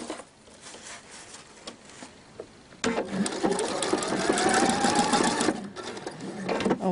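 A sewing machine stitching ribbon stitches that stops on its own at the right point, heard as faint quiet motor noise and a few clicks, then a loud, close burst of rapid stitching for about three seconds before it pauses and starts again.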